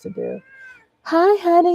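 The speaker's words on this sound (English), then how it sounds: "That's my cat. She likes to talk," A pet cat named Nippy meows loudly in a long drawn-out call right after a woman's brief spoken greeting, close to the microphone.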